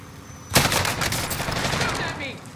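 Burst of rapid automatic gunfire erupts suddenly in a Call of Duty Cold War Warzone match, loud and sustained with dense rattling shots continuing to the end, close to the listener.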